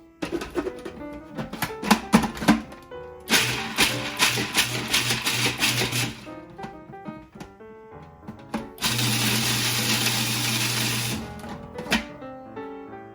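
A blender whirs in several bursts, short pulses first and then two longer runs, chopping walnuts with a loud, gritty rattle.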